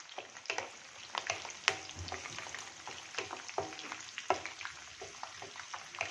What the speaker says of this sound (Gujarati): 2 લીલા મરચાં નાખીશું. એને આપણે આવી રીતે થોડું તેલમાં પકાવવા દેશું.